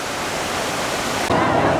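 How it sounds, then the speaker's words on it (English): Large showy waterfalls beside a river rapids ride at Tripsdrill theme park roar in a steady broadband rush that swells louder and fuller for the last half second. "I love the big waterfalls"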